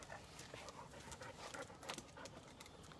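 A female dog pants outdoors in nature, quick rhythmic breaths that stay close and fairly steady over a light breezy background, with no talk.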